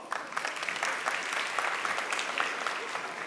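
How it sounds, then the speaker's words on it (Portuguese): A talk audience claps for Pedro, a steady burst of mid-sized crowd applause with scattered individual claps, close and continuous for a few seconds. "Palmas para o Pedro,"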